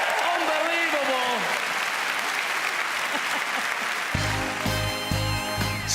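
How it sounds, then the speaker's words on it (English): A large audience at the Royal Albert Hall, London, applauds loudly and continuously during the Royal Variety Performance, with a voice speaking over the clapping and music starting up near the end. "Let's give them an extra round of applause here."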